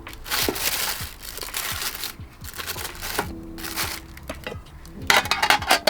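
Packing paper rustles and crinkles as a box of rare limited-edition Adidas shoes is unboxed, with irregular close crumpling and crackling bursts that grow louder near the end.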